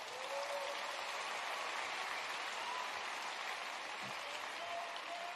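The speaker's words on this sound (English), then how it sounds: "Stand up and let's give Jeff Sprecher a round of applause." Audience applause at a presidential speech in a high school in Marietta, Georgia: steady, dense clapping from a large crowd, heard at a distance and fairly quiet, with no talking over it.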